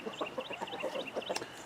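A Whiting True Blue chicken clucks in a coop, a quick run of soft, rhythmic clucks and short calls, close but quiet.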